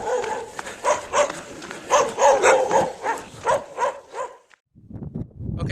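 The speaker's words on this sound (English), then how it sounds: "Dogs, that's never good." Several dogs barking repeatedly in a small community in the Atacama Desert of Chile early in the morning, loud, rapid overlapping barks close by that stop abruptly near the end.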